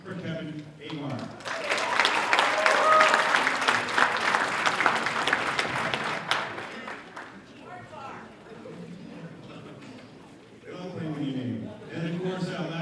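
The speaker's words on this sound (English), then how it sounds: "Please, ladies and gentlemen, give a nice big round of applause for Kevin Avard." An audience claps for a New Hampshire state senator being introduced at a legislative panel, a dense burst of applause swelling quickly and holding strong for several seconds before fading, with a voice speaking before and after.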